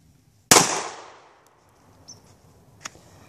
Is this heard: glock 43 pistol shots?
yes